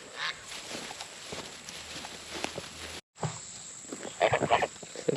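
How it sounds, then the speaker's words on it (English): Two turkeys in a barn give loud honking, gobbling calls, with a brief dropout midway and a burst of calls near the end. "Turkeys have been getting out. There's 2 turkeys in here."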